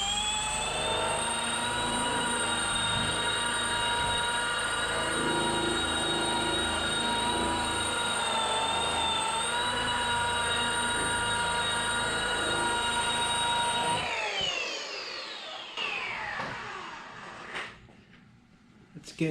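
A polisher pad buffs scratch remover into car paint, giving a loud, steady, high whining motor hum that runs for about fourteen seconds before spinning down and fading out. A voice is faintly present.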